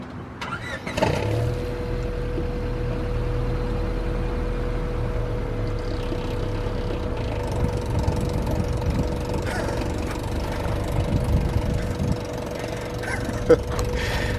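A Honda car engine with the EJ8 chassis runs with a steady low rumble and idles continuously, with a brief rise near the start and faint background noise throughout.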